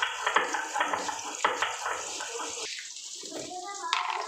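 Salted water lilies are left to drain, giving soft splashes and trickling water in uneven bursts, with someone speaking over parts of it.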